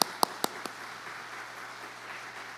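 A church congregation at a Korean Sunday service claps to welcome the pastor to the pulpit. A few sharp, close claps at the start give way to a faint, thin wash of clapping.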